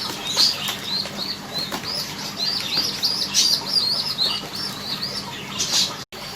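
Young pigeons being hand-fed give high, rapid begging chirps and squeaks alongside wing flapping, close and lively throughout, with the rustle of feeding handling beneath.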